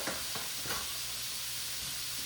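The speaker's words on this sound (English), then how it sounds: "We just want to mix the meat around. We want to brown it, but we don't want to cook it." Ground meat is stirred and browned in a pan with a spatula, producing a steady soft sizzle and hiss with a few faint scraping strokes, and no voices.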